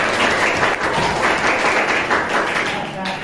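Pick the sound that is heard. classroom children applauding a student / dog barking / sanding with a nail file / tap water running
classroom children applauding a student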